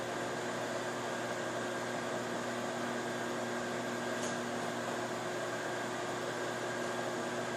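A microwave oven running while sugar cookies cook inside, giving off a steady, even hum with a faint fan-like hiss and no other sounds.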